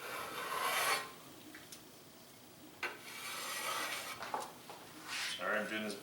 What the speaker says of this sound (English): Now you can use the back of your knife, or you can use, you know, your bench scraper.